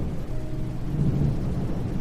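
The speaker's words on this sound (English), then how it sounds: "the sky churned with a deep, rolling grey, alive with flashes of lightning and the distant sound of thunder" Distant thunder rolls low and continuous through a storm, a deep rumble that swells slightly toward the middle and never fully fades.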